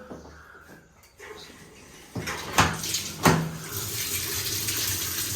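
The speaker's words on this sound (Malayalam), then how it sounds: "ഇനി നമ്മൾ കുറച്ച് വെള്ളം ഒഴിക്കണം." Water is poured into a washing machine during a repair and deep clean, starting after a few soft knocks as a steady, fairly loud rushing splash that builds and keeps going to the end.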